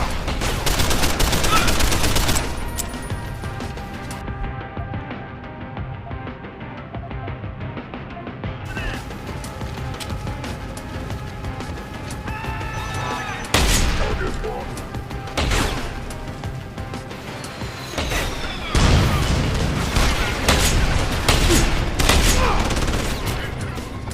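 Gunfire in the video game Deus Ex: Human Revolution, rapid bursts of automatic fire and sharp shots cracking loudly again and again over a steady tonal background, with a voice briefly heard among them.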